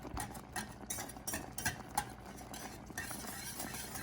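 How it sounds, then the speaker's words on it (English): A whisk stirs cornstarch into a strawberry sauce in a bowl or pan, giving a steady, fairly quiet run of scraping and swishing strokes with a few sharper clinks of metal against the side. "So I'm gonna add the cornstarch and then whisk it in."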